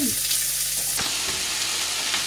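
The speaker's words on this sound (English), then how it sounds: "caramelise the onions and the leeks if you can" Onions and leeks sizzle and fry in a pan with a steady, loud hiss and faint stirring scrapes, close and continuous throughout.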